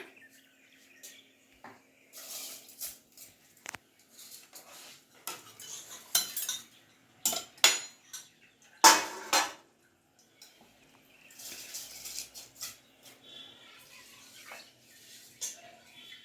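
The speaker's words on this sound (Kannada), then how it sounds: "ಈಗ ಅಮ್ಮ ಕುಕ್ಕರ್ಗೆ ಅಕ್ಕಿ ಹಾಕ್ಕೊತಿದ್ದಾರೆ ನೋಡಿ" Scattered clinks and rattles of rice going into a pressure cooker, arriving in short irregular bursts with quiet pauses between.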